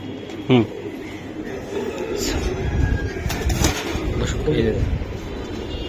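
A female Giribaz pigeon coos once, a short, fairly loud note near the start, then lower murmurs follow against steady background noise and indistinct voices.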